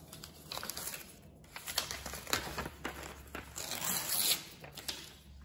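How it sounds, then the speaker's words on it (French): Paper rustles and crinkles in bursts, with a few sharper ripping and tearing sounds, close up and quiet, with no talking. "on va déchirer le papier déjà"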